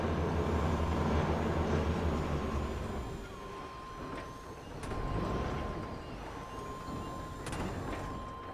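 A truck at the port in Grand Theft Auto V idles with a low engine drone, and sharp air-brake hisses and mechanical clanks come at intervals, with no speech.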